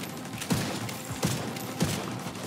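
Turret gunfire in The Division 2 comes as three separated thumping shots spaced roughly evenly, moderately loud over a steady background of game ambience.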